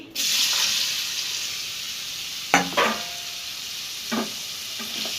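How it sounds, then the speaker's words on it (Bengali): Potato pieces frying in hot mustard oil in a wok, a steady loud sizzle from the start with a few scraping stirs and clinks of a utensil against the pan. "এবার তেলে একটু আলু কটা ভাজবো"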